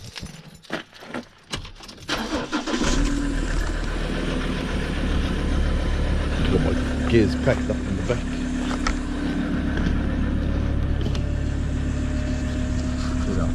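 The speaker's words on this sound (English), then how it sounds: "Get our truck warm up." A truck engine starts and settles into a steady idle on a cold early morning, a low continuous rumble running throughout, with a person speaking over it near the start.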